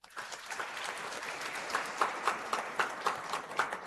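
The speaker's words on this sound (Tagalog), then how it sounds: "Pumalakpak ng malakas" Churchgoers at a Mass homily clapping loudly on cue, a crowd's applause that turns into several sharp rhythmic claps near the end.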